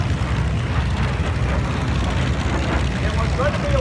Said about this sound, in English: The sound of jets.